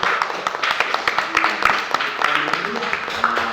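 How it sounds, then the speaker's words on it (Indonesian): A gathered group claps together after a spiritual talk, the applause sustained and fairly close, with a voice speaking over it. "Oke, tepuk tangan dulu dong untuk kita semua"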